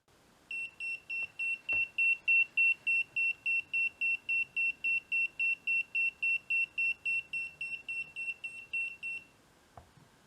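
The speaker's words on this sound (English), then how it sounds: "The annoying beep on the Eric Hill can be turned off permanently." An Eric Hill EMF meter beeps in a long, evenly spaced run of about two dozen sharp, high electronic tones, close and clear, then falls silent, with a couple of soft clicks around it.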